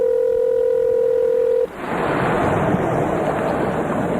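A phone call placed over Skype gives a steady single ringback tone for about a second and a half, then cuts off abruptly into a broad, airy hiss with no voices.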